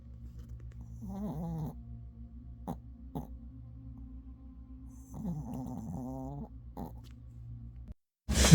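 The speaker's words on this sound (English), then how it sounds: "She snores so loud." A pet cat snores loudly and steadily nearby, a continuous low rasping drone with a few brief squeaky snorts mixed in, ending in a sudden loud knock.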